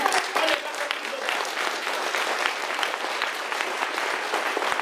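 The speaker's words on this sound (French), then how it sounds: "Veuillez applaudir très très fort." A live show audience claps loudly and continuously, a dense, even wash of applause that holds steady for several seconds without a break.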